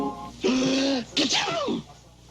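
A cartoon manatee sneezes in two voiced bursts, a drawn-out wheezy build-up followed by a sharp, breathy release, close and clear like a voiced performance.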